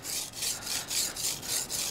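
A knife is sharpened on a whetstone, working a secondary bevel along the edge toward the tip, giving a quick, even run of about seven close scraping strokes in a steady back-and-forth rhythm, with no voices.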